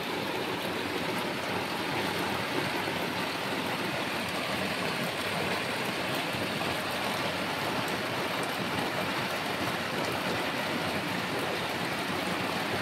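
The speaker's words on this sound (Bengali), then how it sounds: "প্রচণ্ড পরিমাণে বৃষ্টি হচ্ছে" Heavy rain falls at night as a dense, unbroken roar of hiss, steady and even in loudness for the whole stretch, with no voices.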